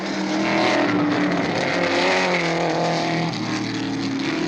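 Porsche 917 race cars at the 1970 Sebring 12 Hours, running a car length apart; a continuous, loud engine roar that swells and fades slightly as the cars pass, with no speech.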